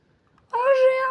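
A cat in the Minecraft video game gives a single meow, a clear drawn-out tonal call that starts abruptly after half a second of near silence and holds steady to the end.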